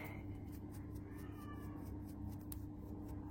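Small cats at a veterinary clinic give faint, soft meows against a steady background hum, with no one talking.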